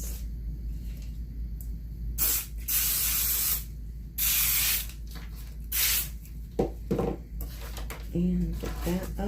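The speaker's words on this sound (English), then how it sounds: "I really just need to spray the inside of this." Spray adhesive hissing from an aerosol can inside a DIY pin board, in several loud bursts of one to two seconds separated by pauses, with quiet handling noises between them.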